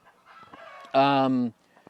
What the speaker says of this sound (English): loud chickens, somebody just laid eggs